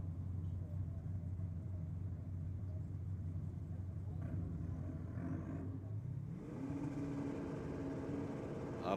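Drag race car with a 632 big block engine at a dragway, a heavy rumbling idle and steady drone that rises into a louder, climbing roar near the end, heard from a distance.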